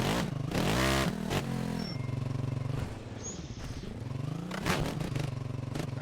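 Husaberg 501 motocross bike engine in the MX Bikes video game, revving hard through gear changes with rising and falling pitch, loud and continuous with brief throttle dips.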